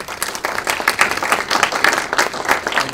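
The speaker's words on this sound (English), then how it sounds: "Let's give a big round of applause to Wang." Lively audience applause at a corporate speaker event, a big round of clapping with distinct individual claps pulsing unevenly, fairly loud and close, no speech over it.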